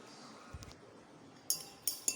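A glass rod clinks against a glass vessel while a hot dinitrobenzene mixture is poured, with soft scraping followed by three sharp bright taps near the end.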